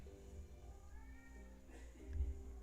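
A pet cat meows a few times indoors, faint drawn-out meows rising and falling, with soft background noise and a low bump near the end.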